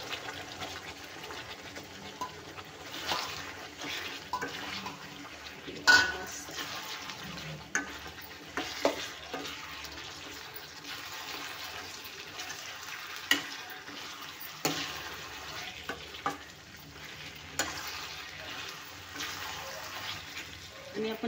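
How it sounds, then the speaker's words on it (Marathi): Soya chunks tipped into a pan of oily, sizzling gravy and stirred, giving a steady low frying hiss with scattered scraping and stirring clatters, near and fairly quiet. "तर इथे आपण आता सोया चंक्स घालूया."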